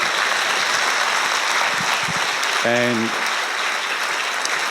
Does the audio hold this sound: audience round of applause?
yes